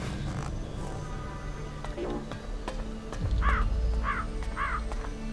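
Crow cawing in the video game ELEX, three clear harsh caws in steady rhythm near the end, preceded by a fainter call, over low ambient rumble and game background noise.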